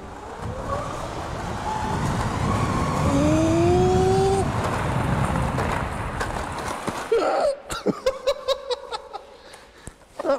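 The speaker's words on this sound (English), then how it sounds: "I think the tyres were just spinning on the rims" LEGO go-kart motor whining steadily as its tyres spin on the rims, a rising drone that fades out, followed by a scatter of sharp plastic clicks and knocks, close by with no talk.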